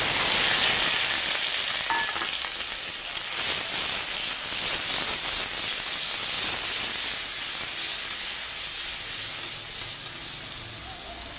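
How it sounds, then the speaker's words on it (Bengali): Cardamom and cinnamon sizzling in hot oil for a Bengali tempering, with a loud, continuous close-up hiss and crackle that stays steady throughout. "এলাচ, দারচিনি ফোড়ন দিয়ে দিচ্ছি"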